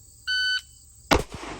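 Electronic shot timer at a pistol red dot class on a shooting range gives a single steady beep, followed moments later by a sharp loud gunshot.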